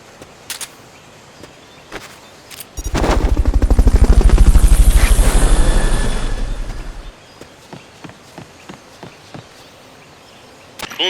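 A rescue helicopter in Metal Gear Solid Peace Walker, with a loud, steady rotor throb that swells for about four seconds and then cuts off. Sharp ticks and clicks sit before and after it.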